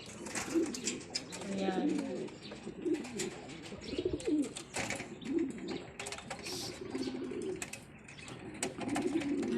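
Racing pigeons cooing repeatedly at close range in a loft, soft rolling coos recurring every second or so amid rustling and wing flutters, with someone talking intermittently.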